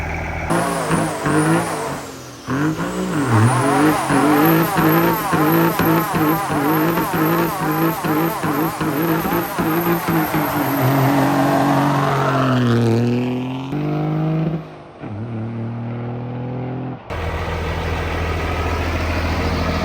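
Cummins-swapped Ford F700 truck doing a burnout, a loud sustained diesel roar with rising and falling revs and tire screech filling most of the stretch, dropping briefly near the end before resuming.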